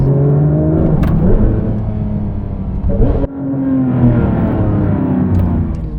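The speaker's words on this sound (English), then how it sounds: "Full Akrapovic exhaust with the headers. It's out of its mind." A Porsche 991.2 GT3 RS with a full Akrapovic exhaust and headers roars and revs hard, a loud raspy exhaust note rising and dropping with a brief gear-change dip midway, close by.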